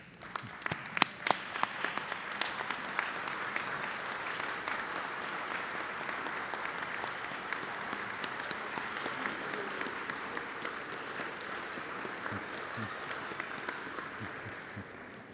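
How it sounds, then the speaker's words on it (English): A large graduation commencement audience breaks into sustained applause, with a few sharp individual claps standing out early before the clapping settles into a steady roar. "give these graduates a well-deserved round of applause"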